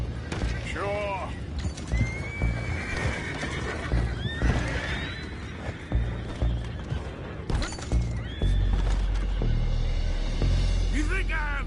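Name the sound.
horses neighing in Red Dead Redemption video game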